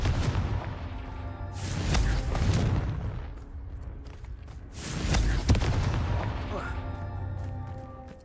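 Confringo blasting-spell explosions from Hogwarts Legacy, two loud booming bursts a few seconds apart, each with a sharp crack followed by a rumbling decay.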